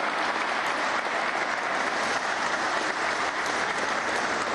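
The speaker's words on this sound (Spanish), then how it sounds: "Vamos a darle un aplauso de cumpleaños, Víctor." A crowd breaks into sustained, even applause, a dense wash of clapping that continues steadily throughout.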